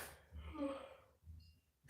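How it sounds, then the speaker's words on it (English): A woman's drawn-out yawn, a long breathy rise and fall followed by a shorter second exhale, close and fairly quiet, with no talking. "The yawns are starting again."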